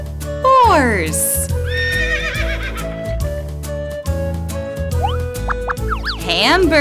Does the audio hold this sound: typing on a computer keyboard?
no